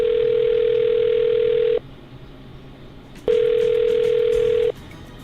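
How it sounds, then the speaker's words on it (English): A steady telephone ringback tone sounds twice after a number is dialed, two long loud buzzing tones separated by a quiet pause. "I'm dialing his phone number right now"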